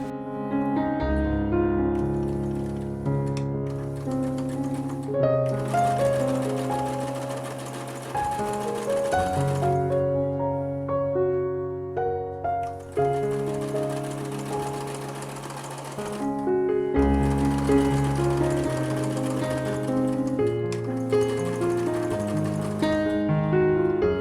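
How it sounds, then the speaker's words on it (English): A sewing machine runs in long bursts, stitching the curved edge of a fabric face mask with bright red thread. The loud whirring comes in several sustained runs separated by short pauses, over steady tonal background sound. "So I'm just going to sew the curved edge of this piece."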